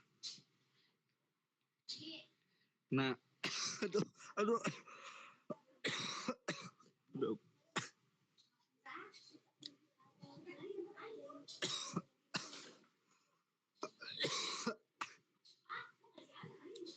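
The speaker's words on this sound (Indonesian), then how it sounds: "aduh tumisan cabai bikin batuk." Repeated bursts of coughing and throat clearing brought on by chili stir-fry fumes, close and fairly loud, mixed in with short stretches of speech and quiet pauses.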